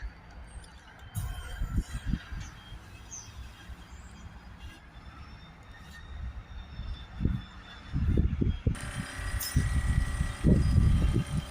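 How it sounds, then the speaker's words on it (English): A low mechanical pumping drone with rhythmic thumping pulses, growing louder and busier in the last few seconds, as a compressor pumps cleaning fluid into a Mercedes E350's particulate filter. "we have it connected to the compressor here. Now we'll get that fluid there pumped in."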